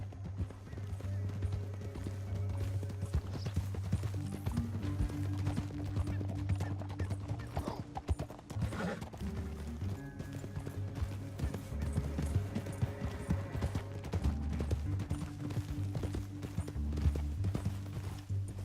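Horse hooves clip-clop at a steady walking rhythm in Red Dead Redemption 2, close and continuous, layered with low droning game music and occasional ambient sounds, with no talking.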